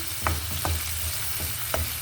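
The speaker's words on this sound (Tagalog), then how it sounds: "Igisa na natin." Steady sizzling of cauliflower sautéing in a pan, with a few light scraping stirs of a utensil at intervals.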